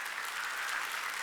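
An audience at a Wednesday church worship service claps: a brief, dense, even wash of applause at moderate loudness.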